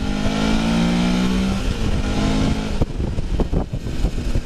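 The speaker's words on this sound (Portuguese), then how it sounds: "É acelerando que a moto vai." A motorcycle engine revs and accelerates on a ride around Itaipava and Itaoca, a loud, close, steady drone with a rising tone that turns into choppy, uneven pulses toward the end.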